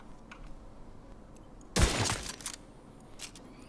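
A single loud sniper rifle shot from The Division 2 cracks out against a quiet background, then a trailing rumble and a couple of fainter follow-up sounds.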